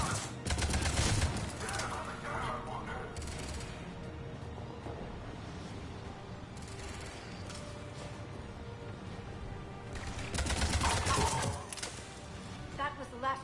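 Gunfire in Mass Effect 3 comes as bursts of rapid shots, a heavy volley at the start and another near the end, with quieter sporadic fire in between and game voices talking over it.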